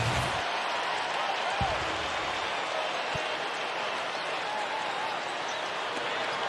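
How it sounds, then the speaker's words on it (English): A simulated NBA arena crowd in the NBA 2K basketball video game gives off a steady, distant murmur of anticipation. Faint commentary-like voices rise over it, and a couple of dull bounce-like thuds sound briefly. "The crowd here in anticipation."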